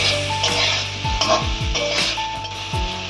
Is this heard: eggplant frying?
yes